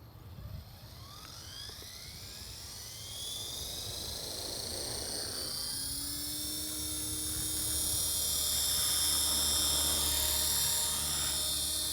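RC helicopter rotor spinning up in idle up mode, a rising whine that climbs in pitch and loudness and then settles into a steady, close, high drone with no talk.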